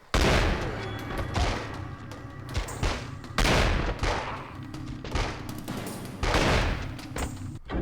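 Repeated loud bursts of gunfire in The X-Files: Resist or Serve, several heavy volleys in close succession with booming impacts and short gaps.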